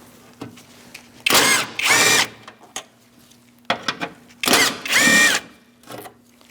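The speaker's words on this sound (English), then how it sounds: "We're going to remove this using a 10mm socket." A power tool with a 10mm socket removing bolts from a 2002-2006 Toyota Camry 2.4 during AC condenser replacement: two pairs of short, loud whirring bursts, separated by quiet pauses and small clicks.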